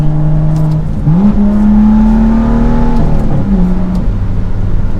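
A BMW M2 engine with a six-speed manual hums steadily from inside the cabin, rising in pitch as it revs up and settling again, loud and close throughout.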